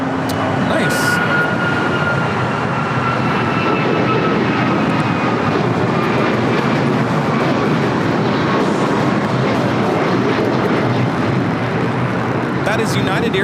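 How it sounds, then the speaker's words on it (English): A United Airlines Boeing 737 MAX 9 takes off with a steady, loud jet roar that holds throughout, while people talk over it. "That is United Airlines 1621 taking off to Orlando on the MAX 9."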